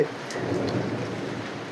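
A steady wash of heavy rain with a low rumble of thunder underneath, continuous and fairly loud, no voices.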